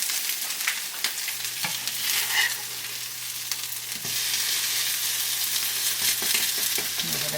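Salmon burgers fry in a non-stick pan, giving a steady close hiss and sizzle with occasional louder crackles as they cook to a golden brown crust.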